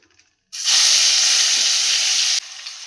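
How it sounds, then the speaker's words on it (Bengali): Salted, turmeric-rubbed catla fish pieces are dropped into hot oil, setting off a sudden loud, bright sizzle that holds steady for about two seconds before dropping to a softer frying crackle. "এখানে মাছ ভাজা বসিয়ে দিয়েছি"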